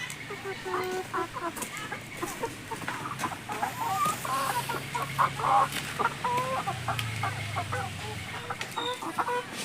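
Purebred Rhode Island Red chickens in a coop cluck and murmur softly at close to mid distance, with scattered calls over a low background hum and faint voices.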